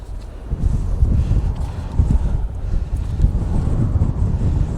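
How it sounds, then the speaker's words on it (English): Strong gusty wind buffets the microphone with a deep, rumbling roar that surges and eases throughout, close and loud. "Man, it's super windy out."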